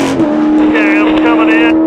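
A Corvette race car on track during qualifying drones loudly at a steady high engine pitch, close and continuous, with slight rises in revs and a voice talking over it.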